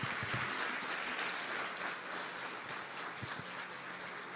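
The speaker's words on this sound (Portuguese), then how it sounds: "Pode aplaudir bem forte ao Senhor." A church congregation applauds loudly at a celebration service, a dense steady wash of clapping from many hands that fades slightly toward the end.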